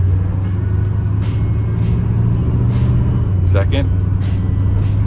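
A 1966 Buick Wildcat with a newly installed Super Turbine 400 automatic transmission drives through its gears, a loud steady engine rumble close by with a brief rise in pitch near the end.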